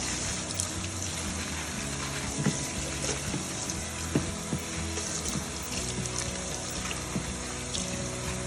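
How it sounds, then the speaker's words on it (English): Taiwanese spinach rinsed under a running kitchen tap, a continuous close splashing water stream with small irregular bursts as the leaves move through it. "And just rinse it really good."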